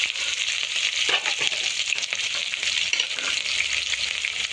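Thinly sliced onions and green chillies frying in hot oil with cinnamon, cloves and spices, a steady close sizzle with occasional stirring clinks and scrapes.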